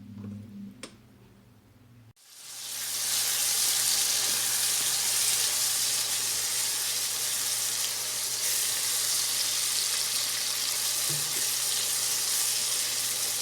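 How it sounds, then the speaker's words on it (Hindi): Onions hit hot oil with a sudden loud sizzle after a couple of seconds of quiet clinking, then keep stir-frying in a steady, close hiss to the end, with no voices. "अनियन को हम स्टर फ्राई करेंगे।"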